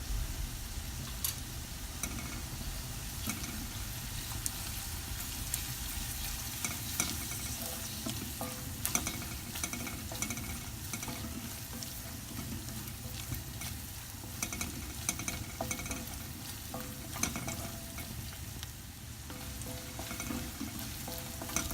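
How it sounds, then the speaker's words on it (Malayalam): Ginger garlic paste sautés in a hot pan for an egg Mughlai dish, giving a steady low sizzle and frying crackle with occasional scrapes and clicks of stirring, soft and continuous without talk. "1 ടീസ്പൂൺ ഇഞ്ചി വെളുത്തുള്ളി പേസ്റ്റ് ഞാൻ ആഡ് ചെയ്യാണ്. നന്നായിട്ടൊന്ന് വഴറ്റാം."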